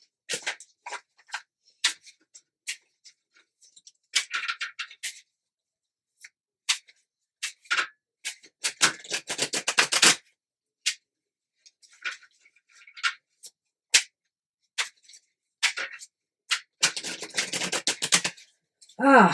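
Crisp papery flicks and riffling bursts of tarot cards being shuffled, coming in irregular clusters with quiet gaps between them, close to the listener.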